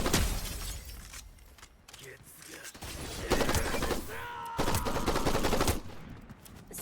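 Rapid automatic gunfire in Fortnite sounds in several dense bursts of sharp cracks, loud and close, mixed with shattering impacts and a voice talking between bursts.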